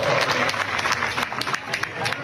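An audience at a large public political gathering breaks into clapping, a dense, steady patter of many hands that carries on for a couple of seconds under a crowd murmur and a voice.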